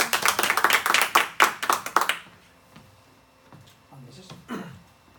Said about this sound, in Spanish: pues un aplauso para Albert